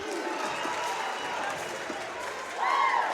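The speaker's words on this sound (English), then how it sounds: "So Wolverine crowd coming a little bit back to life here with the closer game" A basketball crowd at a high school game cheers and claps in a steady wash of noise, swelling louder near the end, with voices mixed in.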